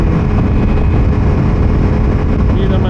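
Engine of a Ducati Multistrada V4S motorcycle while riding to work, a loud, continuous, close-up rumble mixed with heavy wind buffeting and no breaks.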